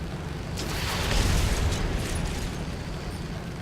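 Rockets and bombs exploding during a fighter aircraft ground attack run in a combat flight game, heard as a low rumbling blast that swells over about a second and then lingers as a steady roar.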